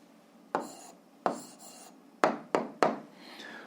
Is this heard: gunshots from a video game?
no